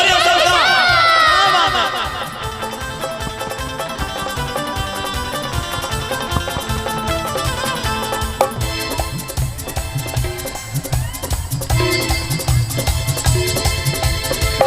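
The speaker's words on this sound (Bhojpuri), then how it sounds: "एक जोरदार ताली हो जाए सबका।" Audience at a stage show cheering and clapping, a loud crowd roar with shouts and whoops that stays dense throughout, mixed with music.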